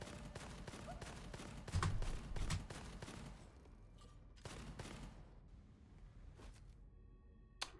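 Rapid gunfire from the first-person shooter Gunfire Reborn, a steady stream of shots held for several seconds with a louder burst near the middle, then thinning into sparse shots and game effects.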